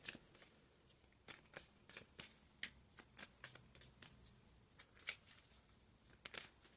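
Tarot cards are shuffled in quick, irregular riffles and taps, close and fairly quiet, with no talking.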